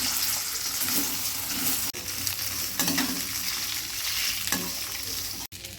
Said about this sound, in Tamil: அதில் கொஞ்சம் எண்ணெய் ஊற்றிக்கிறேன். அதில் கொஞ்சமாக கடுகு போட்டுக்கிறேன்.